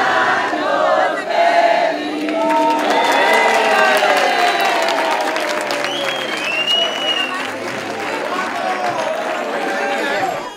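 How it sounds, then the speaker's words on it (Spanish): A crowd applauds and cheers at a midnight thirtieth birthday celebration, with dense clapping, whoops and excited shouting voices layered over each other, loud and sustained for about ten seconds before tapering slightly. "Este fue el primer aplauso que recibió Manu ya con 30 años."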